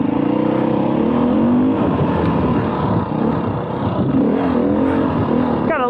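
A 2021 Beta 500 RRS dirt bike engine roars loud and close, holding a steady throaty drone that swells and dips with throttle, with wind buffeting over it.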